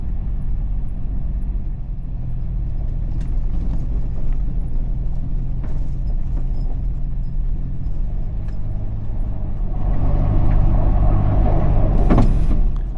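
A four-wheel vehicle slides on ice near a forest overlook, giving a steady loud rumbling drone with scraping and crunching that swells toward the end.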